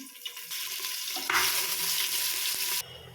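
Chopped onion fries in hot oil in a pot for village-style mutton sambar, a steady close sizzle that swells louder midway, then drops back abruptly near the end, with no talking.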